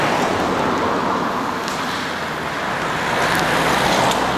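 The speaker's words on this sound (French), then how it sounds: "on va juste laisser passer les voitures" Cars passing on a road beside a parked car, a continuous loud roar of traffic that swells slightly toward the end, with no one speaking.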